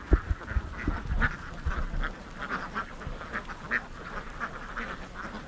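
A large flock of farmed ducks quacking constantly at Karuvatta, a duck-farming area in Kerala, with many overlapping calls near and far and some louder bursts close by.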